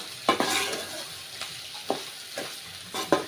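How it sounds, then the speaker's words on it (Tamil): Bitter gourd fry with grated coconut stirred in a hot pan at home, a soft steady sizzle broken by several sharp scraping strokes of a spoon against the metal, close and clear with no talking. "தேங்காய் சேர்த்து கலந்து விட்டுடலாம்"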